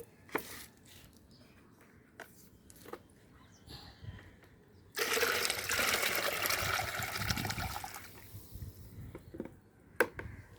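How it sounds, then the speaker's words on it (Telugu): Water gushes loudly and close for about three seconds into a container, with quiet clattering before and after. "వాటర్ పట్టానండి బకెట్లో"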